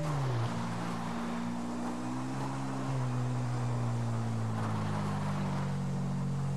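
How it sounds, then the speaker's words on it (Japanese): A motorcycle ridden in the video game GTA5 gives a steady, close engine drone whose pitch rises and settles as the bike speeds along, running alone with no talk. "バイク乗ってるだけで楽しい"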